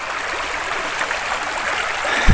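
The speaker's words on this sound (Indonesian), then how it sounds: "ini kawasan di tepi sungai ya, macam ini. Dan ini sungainya besar." A large river flows past its bank, producing a steady rushing, gurgling wash of moving water at moderate loudness, continuous throughout with a small splash near the end.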